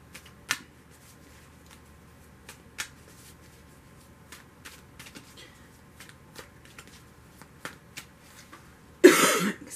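Soft, quiet tarot card shuffling with scattered light flicks and taps, ending in a brief louder burst of riffling cards.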